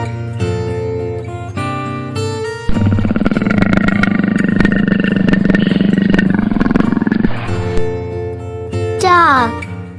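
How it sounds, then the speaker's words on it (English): A leopard roars in a children's animal-sound sequence, a loud rasping growl held for several seconds between brief musical tones. "leopard,"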